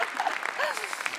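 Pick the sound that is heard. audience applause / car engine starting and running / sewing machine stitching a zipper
audience applause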